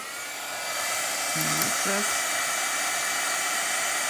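A heat tool blows steadily to cure polymer clay for miniature carrots, a constant close airy whoosh that rises slightly after starting and holds level throughout.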